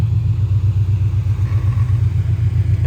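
Supercharged widebody Scion FR-S engine idling, a steady low throbbing rumble with an even pulsing rhythm, close and loud with no talk.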